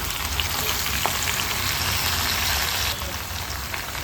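Brinjal sizzles in a pan with onion and green chilli, a dense, continuous frying hiss that holds steady and drops slightly in level toward the end.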